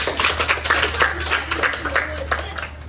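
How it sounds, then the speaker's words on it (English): Students in a classroom clap together in a brief burst of steady rapid hand claps, fairly close, with a constant low electrical hum underneath. "Y'all give me a clap."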